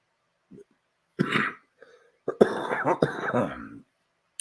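Coughing and throat clearing close to the microphone, a few rough bursts separated by short pauses.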